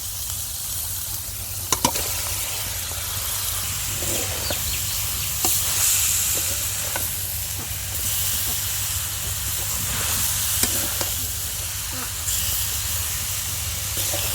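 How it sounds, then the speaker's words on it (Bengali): Small icha fish and taro stolons sizzle in a hot pan while being stir-fried, a steady loud hiss with occasional scraping clicks from the stirring. "মাছটা কষানো হয়ে গেছে এবার আমি লুটিটা দিয়ে দেবো"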